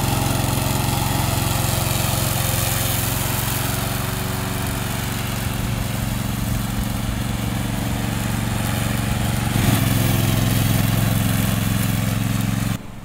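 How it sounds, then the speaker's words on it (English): A remote-operated mowing robot powered by a Lumsen engine runs steadily close by. The low mechanical drone holds constant and loud for the whole stretch, then cuts off abruptly at the end. "We use Lumsen engines for our lawn mowers"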